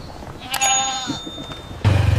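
Farm goats bleat a couple of times in short, wavering calls, fairly close, followed by a louder low rumble at the end.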